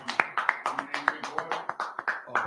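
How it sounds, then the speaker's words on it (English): People clap together in a steady, even rhythm at the start of a live-streamed gathering, a run of about a dozen close, crisp claps. "let's clap it up"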